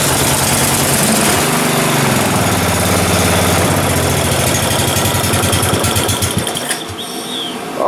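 A Murray riding lawn tractor's small engine starts on full choke and settles into a loud, steady idle, with a rough rhythmic chug under a busy mechanical clatter that drops off near the end.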